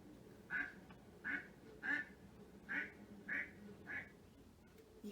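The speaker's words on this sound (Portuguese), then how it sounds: "Vamos ouvir agora o som do pato?" A duck quacks six times in a steady, evenly spaced series, each quack short and nasal, heard clearly but at modest volume over low background noise.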